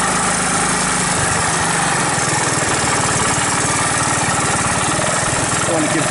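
The engine of a 1981 Honda ATC185S three-wheeler runs loud and close as it is downshifted. A constant buzzing drone fills the whole stretch, with some rough vibration.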